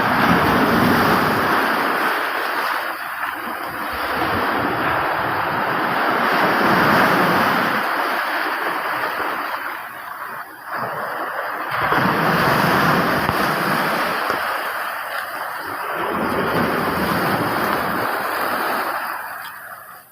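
Sea waves surge and crash against a shore where fishing boats are usually moored, a continuous loud roar swelling and receding in broad rhythmic cycles, with wind noise buffeting the microphone throughout.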